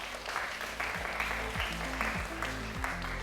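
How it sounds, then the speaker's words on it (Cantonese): An audience at a school debate competition applauds the judges, giving a steady, moderately faint spread of clapping from a crowded hall, with a voice speaking over it. "我哋先俾啲掌聲"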